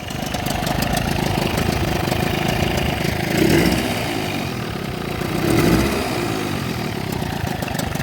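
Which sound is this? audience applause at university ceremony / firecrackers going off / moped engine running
moped engine running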